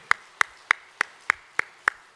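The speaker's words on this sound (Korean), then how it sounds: "우리 주님께 영광의 박수 올려드리겠습니다" Clapping in a church congregation during a worship service, heard as seven sharp, evenly spaced claps falling in a steady rhythm, close and fairly loud, with no talking over them.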